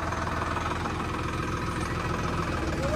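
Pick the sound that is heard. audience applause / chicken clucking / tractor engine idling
tractor engine idling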